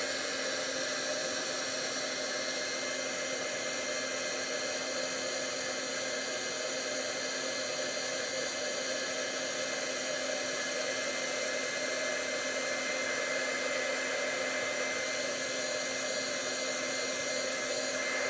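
A heat tool blows a steady, loud whooshing hum without pause while it melts embossing powder on a handmade stamped card. No one speaks over it.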